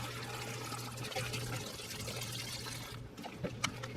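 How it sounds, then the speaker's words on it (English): Chicken broth is poured from a carton into a cooking pot, a soft, continuous liquid pour that trickles off at the end, with a low hum beneath it. "I have 32 ounces of chicken broth, or 8 cups. And we're going to go ahead and pour that in."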